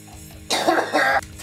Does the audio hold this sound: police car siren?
no